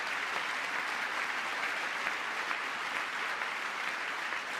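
A crowd at a Trump address keeps up continuous applause and cheering, a broad, even wash of many hands clapping at steady loudness throughout, with no pauses.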